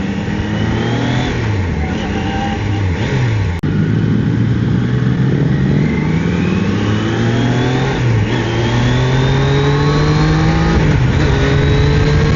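Triumph Daytona 660 three-cylinder supersport motorcycle engine revving up through the RPM range, loud and close, with repeated rising pitch sweeps as it accelerates and shifts, continuous for the whole stretch.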